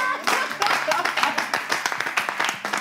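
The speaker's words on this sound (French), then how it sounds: "Nous allons encore applaudir." Audience applause at a French-language church gathering, brisk sharp hand claps in a close, uneven rhythm with quick bursts that rise and fall, over a faint tonal hum from music or a voice beneath.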